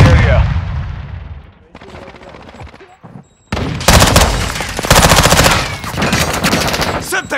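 Automatic gunfire in Call of Duty Modern Warfare 2, loud bursts of rapid shots and heavy weapon fire, close and dense, with voices shouting over the shooting.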